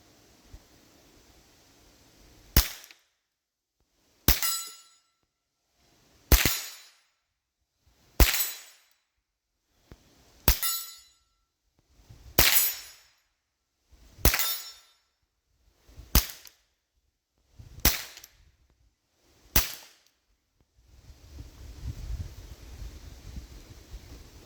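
Ten sharp gunshots fired outdoors at a target, each a loud crack with a short decaying tail, spaced roughly two seconds apart, followed by a stretch of wind noise.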